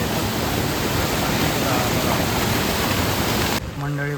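Broadband roar of rushing floodwater and newly formed waterfalls in heavy monsoon rain in Mangeli village, Konkan, loud and continuous, then it cuts to quieter tones near the end.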